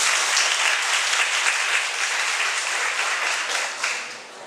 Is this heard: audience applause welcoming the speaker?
yes